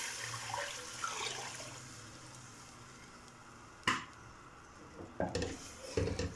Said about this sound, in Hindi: अब मैं ऊपर से बेसन वाली लस्सी शामिल कर दूँगी